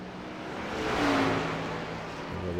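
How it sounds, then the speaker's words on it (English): NASCAR Xfinity Series race cars doing burnouts at Phoenix, a steady engine roar swelling and easing with a rising whine, heard from a distance as one sustained pass. "We'll go ahead and we'll watch these burnouts."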